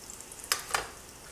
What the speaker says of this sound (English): Let that fry for a little bit.